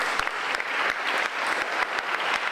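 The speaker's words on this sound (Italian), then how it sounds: "gli faccio già un applauso" An audience at an Italian book presentation applauds steadily, a dense wash of clapping hands that fills the room without a break and carries no talk.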